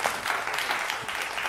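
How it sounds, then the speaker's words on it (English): An audience at a car-tuning event featuring Evo and Lamborghini builds applauds in a brief burst of steady clapping, fairly close and continuous, with no talk over it. "So let's give a round of applause for Martin."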